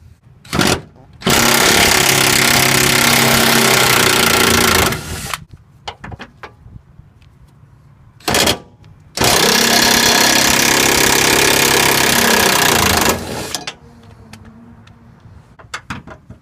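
Power tool, likely an impact wrench, zips out rear subframe bolts on an S14 240SX in two long loud bursts of several seconds each, with short blips before each and quieter clinks between.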